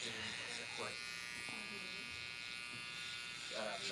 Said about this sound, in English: that's where I'm going to start kind of flicking the trimmer out a little bit